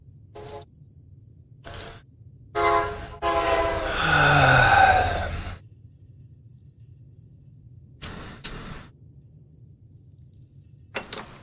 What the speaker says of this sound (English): And listen as the train fucking goes by.